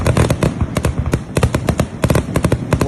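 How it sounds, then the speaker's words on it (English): Fireworks burst over a river in a quick, loud run of sharp cracks and pops, with overlapping bangs crowding close together throughout. "So a lot of fireworks went on last night."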